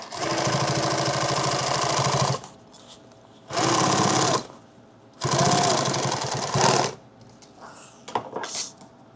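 A sewing machine stitches a laptop bag in three long, loud runs of rapid steady chatter, each lasting one to two seconds, separated by pauses filled with light handling clatter and rustle.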